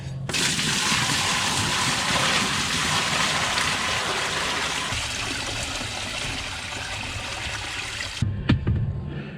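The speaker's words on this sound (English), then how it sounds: "now let's fill it with water" Water gushing steadily from a hose into a greenhouse fish tank fitted with a heater, a loud continuous rushing stream that shifts in tone partway, then cuts off with a few clunks at the end.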